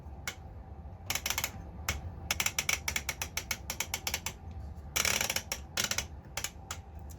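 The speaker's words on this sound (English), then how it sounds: "I appreciate that this has a full ratcheting tuner, not just on VHF, but on UHF." Ratcheting UHF/VHF channel tuner on a Panasonic TR-555 television, turned through its detents: rapid bursts of sharp, close mechanical clicks in uneven runs, some single and some quick clusters, with no talking.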